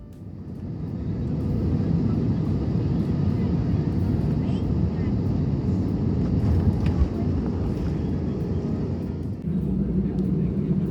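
A SriLankan Airlines airliner descends to land in Colombo through some bumps, heard from inside the cabin as a loud, steady low roar with a brief shift near the end.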